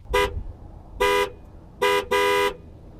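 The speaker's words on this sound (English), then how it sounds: "one of my favorite little quirks about this car is the 1980s horn" Four loud, bright honks from the 1980s horn of a Lincoln Mark VII: a short toot, a longer blast, then two close honks, the last held longest.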